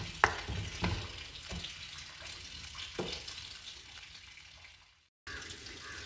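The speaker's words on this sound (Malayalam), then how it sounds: "ശർക്കര പൊടിച്ചത് ആവശ്യത്തിന് ചേർത്ത് കൊടുത്ത് നന്നായി മൂടി വച്ച് തിളപ്പിക്കുക" Tamarind mixture with powdered jaggery simmering in a covered pot, a steady soft bubbling and hissing with a few clinks of the lid or spoon near the start, close and moderately loud, then a brief cut to silence before the bubbling resumes.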